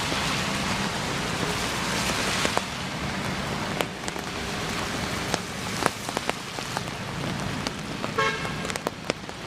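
Heavy rain pours down steadily with a dense hiss, scattered sharp drips and knocks, and a faint vehicle horn-like tone near the end.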